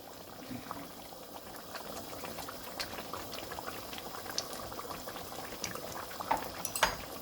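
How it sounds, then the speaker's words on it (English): Chicken shagoti curry simmers in a pot, thickened yet still bubbling with a steady close-up blip and plop of the sauce and a few sharper pops toward the end, with no talking over it. "It's nicely thickened, and still it's bubbling, so it will be a little liquidy."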